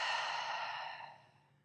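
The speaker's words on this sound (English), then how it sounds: "Exhale it out." One deep yoga exhale, a single close, breathy sigh that starts full and tapers off to silence in under two seconds, with no talking.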